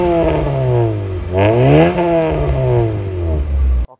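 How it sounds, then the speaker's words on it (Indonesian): A supercharged Honda Jazz GE8 with a mixed Jazz Racing and Mugen exhaust revs hard and close, its note climbing, dipping and climbing again over about four seconds before cutting off abruptly. "Knalpotnya ini sih ada ya pakai campuran Jazz Racing sama Mugen."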